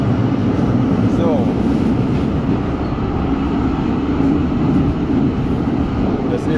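A tram arrives at the last underground stop in Hanover with a loud, steady rumble and rail noise that fill the whole stretch, echoing in the enclosed station.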